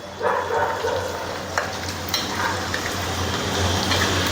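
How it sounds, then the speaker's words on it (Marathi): Peanuts and coconut fry in hot oil for thin poha chivda, giving a dense, close, continuous sizzle with occasional light stirring clicks and no talk. "गरम तेल आहे त्याच्यामुळे त्याच्यात थोड्या वेळ आपण त्याला तळून घेऊया"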